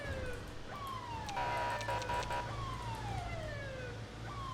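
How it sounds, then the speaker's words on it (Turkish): Police car siren in the GTA 5 police mod video game, a steady rising-and-falling wail that repeats through the clip, with a brief louder burst of sound in the middle and no talk. "şu sirenini bir kapatır mısın sen ya?"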